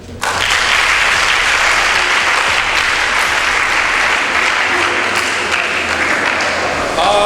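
An audience at a debate on Nigeria's system of government claps for the contestants, a loud, sustained burst of applause that starts abruptly and holds evenly throughout.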